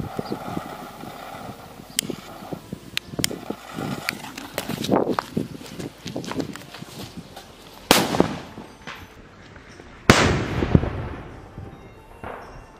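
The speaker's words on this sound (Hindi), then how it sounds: "अब जलाते हैं इस वाले एटम बम को, यहाँ पर देख सकते हैं अब कुछ इस तरीके का है।" Sutli atom bomb firecrackers go off inside a cement hole during Diwali fireworks testing. Sharp clicks and crackles come first, then two loud, sharp bangs with ringing tails, a couple of seconds apart.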